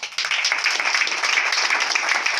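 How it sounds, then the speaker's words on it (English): A church congregation at a prophecy and deliverance service claps for Jesus in dense, steady applause. The sound is loud and continuous, with no break across the whole stretch. "Clap for Jesus"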